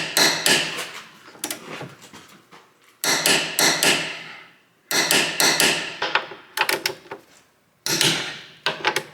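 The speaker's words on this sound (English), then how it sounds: "I'm gonna finish it with the torque wrench." Torque wrench finishing the control arm bolts on a Volvo S40/V50/C30/C70, heard as close, sharp ratcheting clicks in several separate runs with pauses between, no voices over them.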